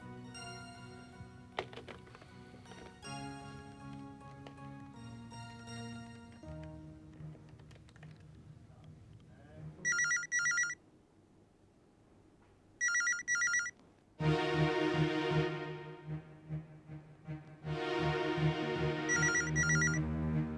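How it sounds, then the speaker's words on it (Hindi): A telephone rings in short repeated electronic bursts, several times over sustained music, with pauses between rings. "बेल बज रही है पापा"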